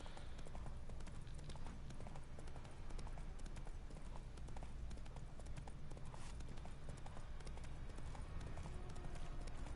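Rapid, continuous horse hoofbeats from The Witcher 3 video game pound in a steady galloping rhythm, with a dense, slightly synthetic quality and no talking over them.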